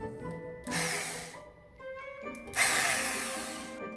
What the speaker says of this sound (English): First I had to make sure it actually works.